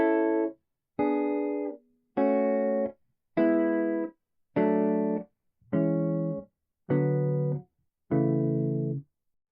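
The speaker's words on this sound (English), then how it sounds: "The scale inverted with the scale degree on top of each triad sounds like this." A major scale played upward as eight inverted triads, each chord with the scale degree on top, sounding as separate sustained chords in a steady, evenly spaced sequence with brief gaps between them and no voices.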